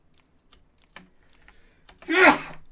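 A single loud sneeze bursts out near the end after a few scattered keyboard clicks in a quiet room, during Besiege gameplay.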